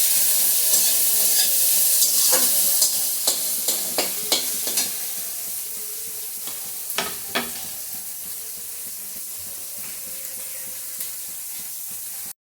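Chopped onion frying in a pan with ginger, garlic and green chilli sizzles steadily up close, broken by a run of sharp stirring scrapes and clicks early on that thin out as the sizzle settles, with no talking.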